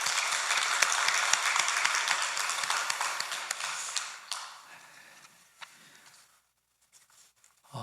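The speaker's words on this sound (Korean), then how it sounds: "크신 은혜와 사랑을 베풀어 주신 하나님께 우리 박수로 영광을 올려드리겠습니다." A church congregation applauds after a sermon prayer, dense steady clapping that fills the room for several seconds, then thins out and fades to near silence with a few last scattered claps.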